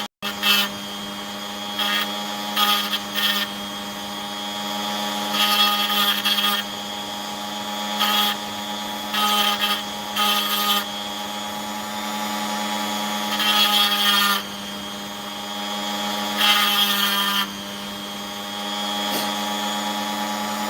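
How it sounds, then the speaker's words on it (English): A rotary tool whines steadily while sharpening the edges of an opal, a constant high motor tone with repeated brief bursts of grinding as the bit touches the stone. "Oh, now just sharpening up the edges a little bit."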